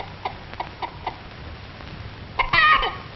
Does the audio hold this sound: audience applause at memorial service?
no